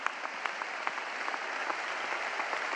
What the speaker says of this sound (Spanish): quiero pedir un aplauso enorme para todos los gobernadores que nos acompañan